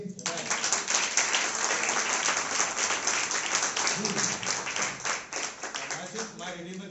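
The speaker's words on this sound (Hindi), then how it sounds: "हम प्रभु की तालियां देंगे" Sustained applause from a congregation at a Sunday morning church service, dense clapping filling the room at steady volume, with voices mixed in underneath.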